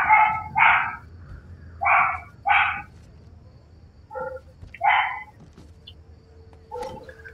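A small female dog gives a few short, sharp barks in pairs, fairly close and clear, with pauses and softer yips between them. The setting is the stealth video game Thief, with low game ambience underneath.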